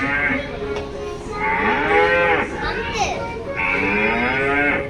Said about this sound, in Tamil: ஓ மாடு கத்துது